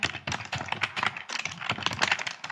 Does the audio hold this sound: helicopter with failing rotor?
no